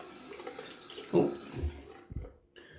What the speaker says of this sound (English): We're gonna rinse out the Balm.